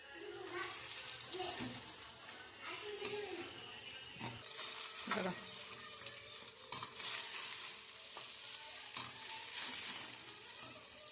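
Fried rice is stirred and mixed with garam masala in a sizzling pan, with a steady scrape and clatter of the spatula over continuous frying hiss, close by.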